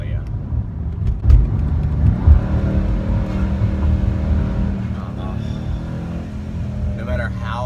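A Mercedes C63S AMG engine rumbles from inside the cabin, a low steady growl with a few sharp thumps early on, while the driver keeps talking.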